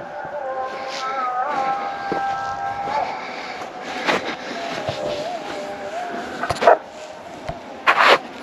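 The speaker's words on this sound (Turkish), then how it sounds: "o bir sürü koyun köpeği var o karşıda" Sheepdogs barking far off across open country at dusk, a few short distant barks and yelps scattered over a steady low background hum.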